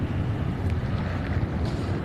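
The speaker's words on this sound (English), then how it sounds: "Yuki, Natasha, it is still quite windy out here in Camden County" Strong wind in Camden County, South Jersey, after storms snapped power poles, roars steadily against the microphone outdoors with a constant low rumble and gusty buffeting, and no voices.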